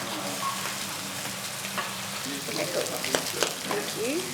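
Food frying in a pan with soft continuous sizzling, occasional clinks and scraping stirs, moderately close.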